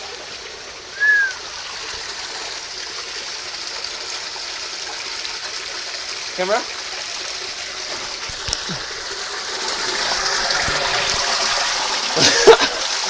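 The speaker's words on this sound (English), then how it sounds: "These streams carve their way underneath the Amazonian earth for kilometers and kilometers and kilometers" Underground stream in a cave beneath the Amazonian earth of the eastern Ecuadorian Andes, flowing in a steady broadband wash with occasional splashes and echoing drips, fairly close and continuous throughout.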